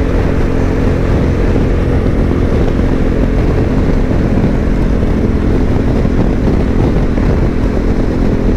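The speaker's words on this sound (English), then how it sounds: "Big yellow bike in the fast lane, almost at 100 miles an hour." A Suzuki V-Strom motorcycle at highway speed in the fast lane, nearly 100 mph; a loud, steady roar of engine and wind rushes continuously without a break, close and unvarying throughout.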